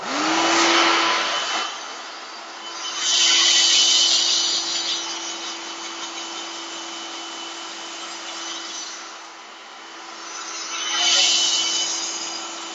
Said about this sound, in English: I'm just going to blast it off with a dryer